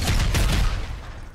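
A cluster grenade going off in Fortnite: a quick series of close, overlapping blasts rumbles heavily at first, then fades into a softer tail within about a second.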